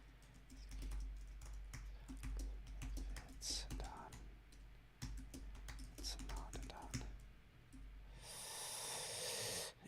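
Rapid clicking of computer keyboard keys in irregular bursts, close and fairly quiet, with a steadier hiss near the end.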